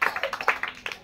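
A group of children at a party game claps together in a quick burst of uneven hand claps, moderately loud and close, with no talking.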